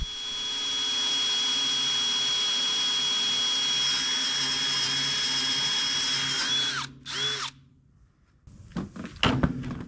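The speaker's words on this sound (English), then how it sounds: "Drilling it anyway." A power drill bores into the hard steel of a Kubota BX23S tractor bucket with a loud, steady whine that stalls near the end, followed by clattering handling noises.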